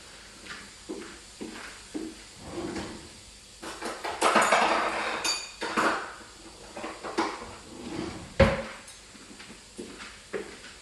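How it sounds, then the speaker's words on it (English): Metal cutlery clatters and rattles in bursts as a drawer is rummaged through, with scattered clinks and knocks, close by and no talking. "Oh, I gotta get some cutlery."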